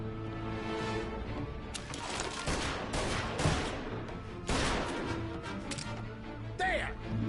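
Several loud gunshots crack out in uneven bursts, with voices talking over and between them.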